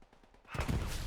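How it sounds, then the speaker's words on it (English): An artillery barrage landing in the World War II shooter Hell Let Loose on the Hill 400 map: after a quiet moment, a sudden loud, rumbling blast swells and lingers as a broad roar. "Artillery coming down"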